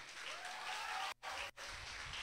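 A church congregation applauds during a worship service, a dense, steady wash of clapping that breaks off twice briefly before resuming.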